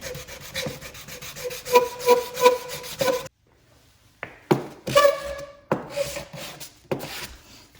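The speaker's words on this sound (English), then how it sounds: "wet sanding seems to cut a little bit smoother and a little bit better on it" Rhythmic rubbing strokes of wet sandpaper on a Glock pistol, close up, pausing briefly before the back-and-forth scraping resumes.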